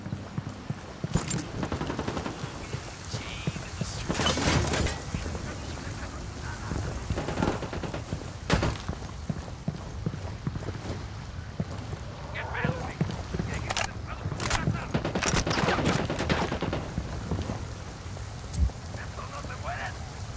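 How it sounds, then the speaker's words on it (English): Gunfire in Ghost Recon Wildlands rattles in sharp bursts and single shots across a noisy combat scene, some loud and close, others sparser, with voices in the mix. "I'm opening fire on these shitheads."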